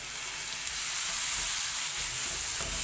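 Calamari frying in a pan as part of a seafood pastilla, giving a steady, dense sizzle that holds loud and close for the whole stretch with no talk.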